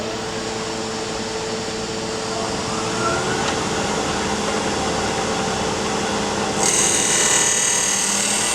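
A Badan power tool routs a square-bottomed recess into wood for a threaded double box, giving a steady, loud machine whine with cutting noise that continues throughout and brightens near the end. No one speaks.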